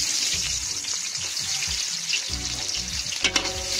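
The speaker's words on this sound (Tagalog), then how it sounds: "So dito sa mainit na kawali, maglagay na tayo ng mantika. Lagay na natin sibuyas." Onions frying in hot oil in a pan for beef caldereta, a steady close sizzle with occasional stirring scrapes, no talking.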